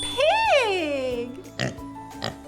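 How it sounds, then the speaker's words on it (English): A pig gives one loud, drawn-out oink that rises and then falls, followed by two short, sharp grunting snorts, all close and clear. "What a great pig sound!"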